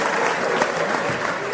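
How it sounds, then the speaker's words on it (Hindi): An audience at a Hindi poetry recital (kavi sammelan) claps loudly and continuously, a thick, steady burst of applause that lasts the whole moment. "एक बार जोरदार तालियां आप बजा दीजिए"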